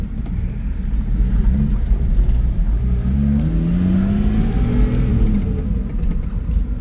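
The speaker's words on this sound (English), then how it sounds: "So this is a straight 6 car." A 1967 Ford Mustang coupe with a straight-six engine drives along, giving a steady, loud interior drone as the revs climb and the engine note rises, with road rumble underneath.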